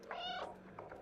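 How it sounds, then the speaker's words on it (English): A single synthetic cat meow triggered by a meow button in a video game, short and clear with a harmonic rise and fall, followed by a fainter second chirp. "Try the meow button."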